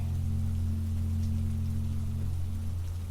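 Steady rain falls by the sea on an island, an even, unbroken hiss over a low, constant hum, with no voices.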